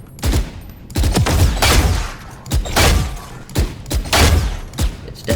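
Gunfire in the video game Valorant crackles in several rapid bursts separated by short pauses, loud and close, with thumping low-end impacts in each volley.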